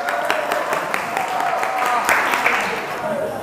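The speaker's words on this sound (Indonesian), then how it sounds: "Tepuk tangan untuk adik rekan kita nih." Brief applause from a group of students in a school hall for a classmate who volunteered, a short burst of scattered claps over a murmur of voices.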